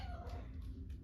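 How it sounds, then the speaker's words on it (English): A pet cat gives one short, faint meow in the background of a quiet indoor room. "if you hear meowing in the background, pretty little purrs, it's because I have a cat"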